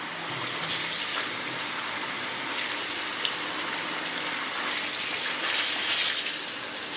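Running water from a faucet rinses hair that still has perm pins in it, a steady close hiss that continues throughout with slight swells and no voices.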